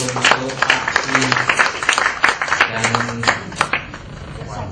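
Audience applause at an Islam–Christianity debate event, a dense burst of clapping from the crowd with speech and voices mixed in over it, fairly loud and sustained throughout.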